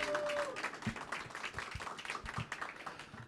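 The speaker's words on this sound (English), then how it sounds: "So some applause for all the panelists, please." Audience applause for a panel of speakers at a conference on club culture, steady dense clapping from a moderate-sized crowd lasting throughout, with scattered sharper individual claps standing out.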